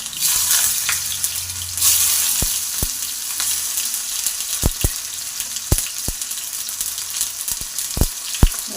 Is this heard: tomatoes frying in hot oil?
yes